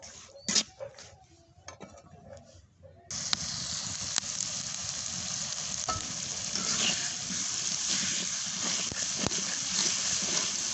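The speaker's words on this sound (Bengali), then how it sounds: "সব উপকরণ দিয়ে আমি এখন 1 মিনিট কষিয়ে নিব।" Helencha greens with spices are sautéed in oil in a pan: a few scattered clinks first, then a loud, steady sizzle and crackle with occasional stirring scrapes, close and sustained.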